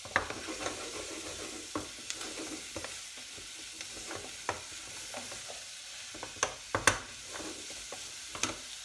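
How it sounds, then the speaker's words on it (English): Quiet frying sizzle of meat in a pan with scattered sharp clicks and scrapes of stirring, a few louder pops near the end; no voices. "See that sizzling away?"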